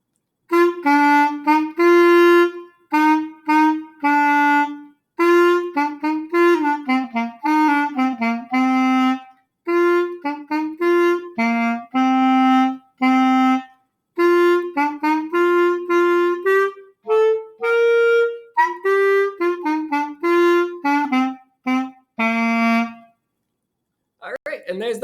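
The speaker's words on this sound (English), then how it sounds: "Let me play an example of something that you might play in fourth grade band if you sign up for the clarinet." Solo clarinet playing a simple fourth-grade band piece, a steady melody of held and stepping notes with short breaths between phrases, close and clear with no talk over it.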